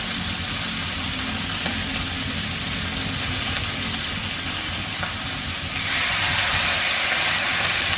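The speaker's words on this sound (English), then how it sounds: "Fry it up, baby." Food frying in a pan on a burner turned up a little too high, a loud, dense, continuous sizzle that swells slightly louder toward the end, heard up close with no talking.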